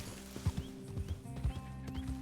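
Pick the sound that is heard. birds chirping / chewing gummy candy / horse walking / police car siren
horse walking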